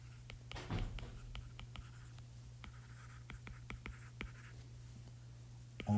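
A pen or marker scratches out a probability formula in short, separate strokes, faint taps and scrapes spaced irregularly over a steady background hum, with no talking.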